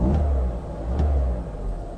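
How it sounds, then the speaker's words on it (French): A Peugeot 206 CC Roland Garros from 2000 idles after starting, a close, steady low engine rumble with slight rhythmic pulsing and no voices. "Le moins qu'on puisse dire, c'est que le moteur il tourne rond."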